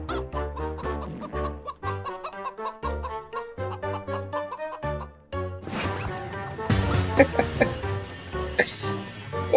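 A chicken in the Roblox video game clucks in a rapid run of bright, tonal, repeated calls over game music, growing busier and noisier toward the end.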